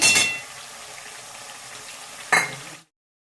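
Onions, garlic and capsicum sauté in a pan with a steady soft sizzle, punctuated by two brief louder stirring scrapes at the start and near the end before the sound cuts off.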